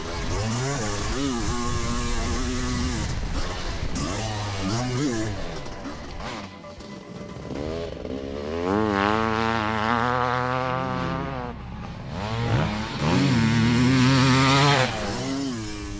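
A two-stroke or four-stroke Kawasaki dirt bike (KX500 or KX450) races a lap into a chicane, its engine rising and falling in pitch through shifts and throttle changes, loud and close, with someone talking over it.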